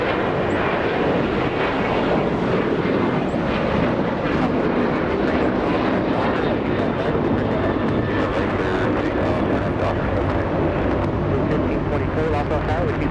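Southwest airliners taxi at Los Angeles International Airport, their jet engines making a steady, loud roar that holds through the whole stretch with no breaks.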